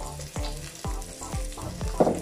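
Oil and butter ghee heat in a pan for khichuri, giving a soft steady sizzle broken by four evenly spaced low thumps of a utensil against the pan, with a brief brighter crackle near the end and no voices.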